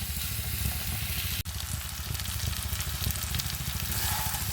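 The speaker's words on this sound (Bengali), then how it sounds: "চিংড়ি মাছের সাথে মশলাগুলো সবজিগুলো ভালোভাবে একটু মিশিয়ে নিচ্ছি" Prawns with arbi, vegetables and spices frying in a pan, giving a steady broadband sizzle throughout with faint stirring scrapes and one sharp click partway through, close and alone without speech.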